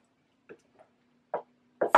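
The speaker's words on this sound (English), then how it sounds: "Give that a nice stir." A spoon stirs spices into split pea soup in a pot, giving a few soft scraping knocks spaced irregularly, with the last two louder and closer together.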